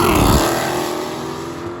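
A stick-shift drag racing car launching down the strip at Amarillo on Route 66, a loud close engine roar that holds steady and fades slightly as the car pulls away.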